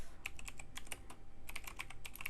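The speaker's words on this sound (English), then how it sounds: "we're gonna type run takeoff" Quick bursts of typing on a computer keyboard while entering a flight simulator command, close and clear, with a short pause mid-way before another rapid cluster of key clicks.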